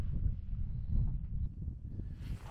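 Steady low rumbling wind buffets the microphone at the top of Duffer's Saddle in New Zealand, a dense gusty roar with no voices.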